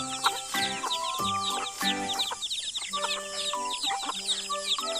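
Several chickens cluck and squawk close by on a farm, a busy overlapping chorus of short calls with no talking.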